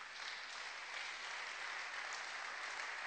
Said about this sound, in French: Est-ce qu'on peut applaudir pour les seigneurs?